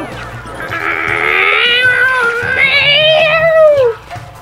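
A cartoonish cat meow from the Super Mario 3D World video game, a loud, drawn-out wavering call lasting several seconds and heard alone with no talking.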